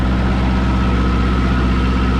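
A vintage tractor engine idles close by, a steady low throbbing rumble with even rhythm and no voices.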